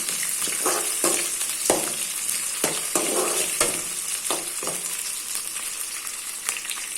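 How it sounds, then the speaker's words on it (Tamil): Two medium onions and two slit green chillies sauté in hot oil in a pan, giving a continuous close sizzle broken by repeated sharp scrapes and taps of a stirring spoon, with no talking. "ரெண்டு மீடியம் சைஸ் வெங்காயம் ரெண்டு பச்சை மிளகாய் கீரி போட்டிருக்கேன் இப்போ இதை நல்லா வதக்கி விட்டுக்கலாம்"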